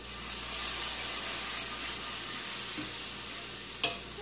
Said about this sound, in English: I'm going to add a little bit of milk. Make sure you mix it up as you go.